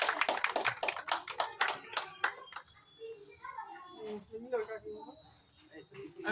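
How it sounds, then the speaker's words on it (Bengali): A short burst of clapping from a small group at a bikers' club anniversary event, dense at first and then fading out as voices take over. "সবাই হাততালি"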